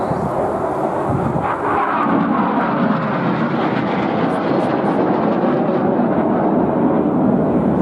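Red Arrows display jets flying the palm split manoeuvre at a Portrush air show, a loud continuous broadband jet roar that swells and washes over the crowd without a break.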